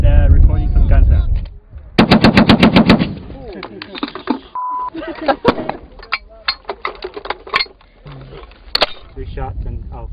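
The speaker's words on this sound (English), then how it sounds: "We're with the Special Forces and recording some gun sounds." Special Forces weapons fire during a sound-recording session, with a rapid burst of automatic gunfire followed by scattered single loud shots and clanking mechanisms, while people talk between the rounds.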